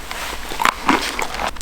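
Crunchy Peak Refuel chocolate brownie bites are bitten and chewed during a solo wilderness fishing trip, with a few close, crisp crunches in quick succession.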